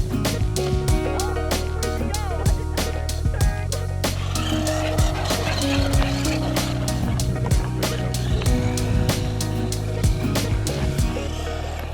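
A small motor whines and revs continuously as a XINLEHONG 9130 4WD toy RC monster truck drives about, while a dog keeps barking sharply nearby throughout.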